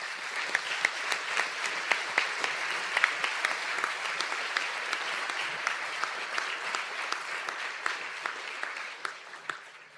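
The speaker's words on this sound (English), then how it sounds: "Could I ask the students of the Postgraduate Diploma in Science and Big Data Analytics and AI to stand for a" A large audience claps steadily at a college conferring ceremony in Donegal, a dense continuous round of applause for postgraduate diploma students that holds for about ten seconds before tapering slightly at the end.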